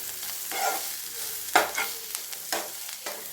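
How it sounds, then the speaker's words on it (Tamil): Turmeric, garam masala, chili powder and coriander powder are stirred into hot oil in a frying pan, giving a steady soft sizzle broken by a few scraping strokes, close and alone. "கரம் மசாலா, மிளகாய்த்தூள், மல்லித்தூள் எல்லாம் சேர்த்துட்டு கலந்துக்கலாம்"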